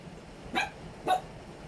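A dog gives two short, sharp barks about half a second apart, somewhat distant and faint over a quiet background.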